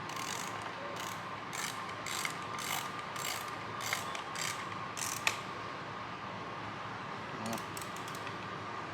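A wrench ratchets while tightening nuts on a Vortech 10-rib Renegade supercharger bracket, a series of short clicking bursts in regular strokes over a steady background hum, close by, with a brief pause before a final few clicks.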